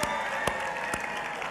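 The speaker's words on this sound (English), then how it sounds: "let's hear it one more time for Storm" An audience applauding at a church gathering: a brief, steady wash of clapping and crowd noise with a few louder claps standing out.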